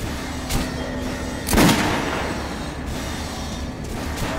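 An artillery cannon fires in Metro Last Light, one heavy booming blast followed by a rumbling tail over a constant noisy background, with a softer thump just before it.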